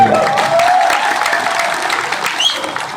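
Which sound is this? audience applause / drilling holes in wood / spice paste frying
audience applause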